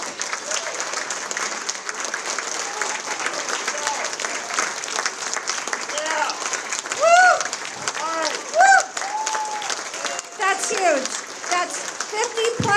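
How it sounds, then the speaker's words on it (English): Luncheon audience giving a sustained round of applause, a steady mass of clapping from a large room with some voices and cheers mixed in. "may I have members of the Gold Circle stand, please, so we can give you a round of applause"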